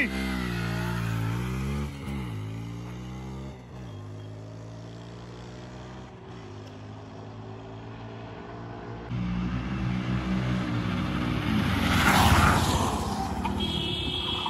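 Ola S1 Pro electric scooter and Apache RTR 160 motorcycle launching side by side in a drag race, a steady engine drone rising in pitch with gear-like steps, swelling louder toward the end with no talk.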